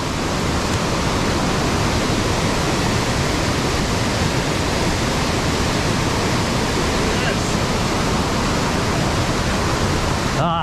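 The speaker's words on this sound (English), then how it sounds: "fresh streams just running" River stream and waterfall at Cascada Gozalandia, Puerto Rico, after a heavy downpour: a dense, steady roar of rushing water, loud and unbroken from start to end, with no talk over it.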